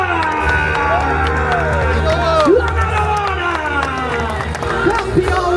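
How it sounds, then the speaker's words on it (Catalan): Crowd at the finish of the Cursa de la Mercè road race in Barcelona cheers and applauds the men's race winner, a steady roar of voices and claps with a loud PA announcer's voice over it. "li farem un fort aplaudiment a l'australià Jimmy Wheeler!"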